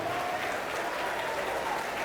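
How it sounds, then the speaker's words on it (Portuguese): A church congregation applauding during a Brazilian evangelical service: dense, steady clapping from a large crowd that fills the whole moment, with a voice faintly audible underneath. "Aplaude, aplaude, aplaude e glorifique"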